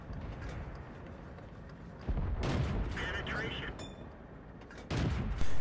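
Tank cannon shots in a tank battle video game on the Sand River map, with a Pz38nA firing: two heavy, booming blasts a few seconds apart over a constant rumbling engine bed, with a few short clanks between them.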